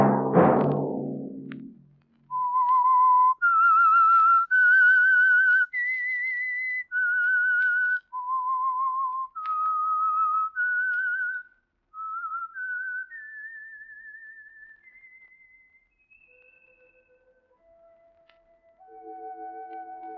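A lone whistler performs the eerie theme of The Whistler radio drama from 1948, a slow melody of clear sustained notes stepping up and down, with a brief low burst before it and a fading descending close.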